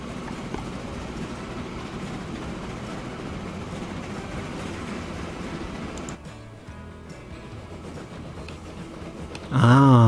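Trains in the video game Transport Fever 2 rumble steadily and fairly loudly, with a change in the running noise partway through and a brief loud burst right at the end.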